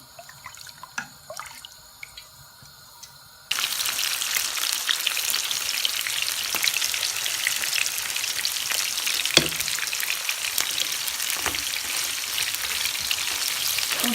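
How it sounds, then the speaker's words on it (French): Onions fry in clarified butter in a pan for a biryani, a steady close sizzle that starts suddenly a few seconds in and holds loud and continuous, with faint clinks and stirring before it. "on va faire frire les oignons dans une autre poêle"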